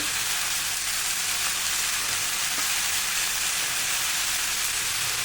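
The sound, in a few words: ginger and cashews roasting in a pan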